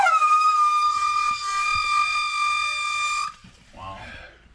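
A loud, sustained air horn blast with rich harmonics lasts about three seconds, then cuts off abruptly, leaving faint clattering and a brief murmur.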